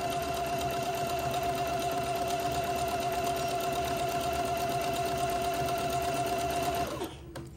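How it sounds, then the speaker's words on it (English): A sewing machine zigzag-stitches along lace on a funeral pall in one long, steady run. The close, even mechanical whir continues for several seconds, then stops abruptly near the end, with no talk over it. "I'm going to migrate the zigzag close to my blue line that I sewed on"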